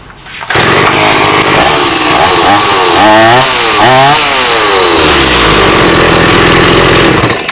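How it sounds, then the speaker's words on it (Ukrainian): A STIHL 180 chainsaw engine starts and revs hard, its loud whine rising and falling in pitch before settling into a steady high buzz, very close. "ти зараз перегрієш нову бензопилу, та де ти не газуєш?"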